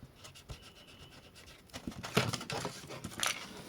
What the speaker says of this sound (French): Je vais gommer un peu le trait qu'on voit.